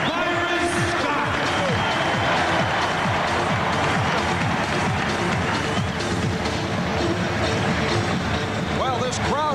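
An arena crowd at the 2002 NBA Finals Game 3, Lakers versus Nets, roars and cheers during the team introductions, a dense, continuous wall of noise with voices talking over it throughout.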